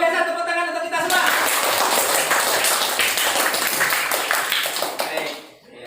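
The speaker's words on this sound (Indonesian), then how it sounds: "Luar biasa, tepuk tangan untuk kita semua" Children in a classroom clap together in a quick burst of lively hand claps after a voice speaks, the clapping fading out at the end.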